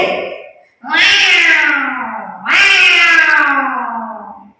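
Two long, drawn-out meows imitated by a voice, loud and close, each sliding downward in pitch.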